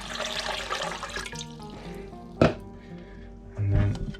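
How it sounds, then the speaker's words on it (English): Water is tipped into a bowl to dissolve yeast for a long-fermentation pizza dough, pouring and splashing briefly with a sharp knock midway and a louder gush near the end, close up. "we'll do that by tipping the water in here"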